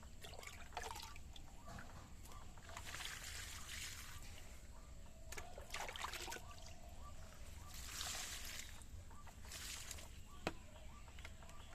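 Water trickling and dripping onto flower plants in a home garden, a soft steady splashing with a few brighter drip bursts over low background hiss.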